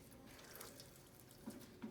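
Hot water running from a Profitec Pro 500 PID espresso machine after repair, a steady close splashing flow with small gurgles and drips, no talking.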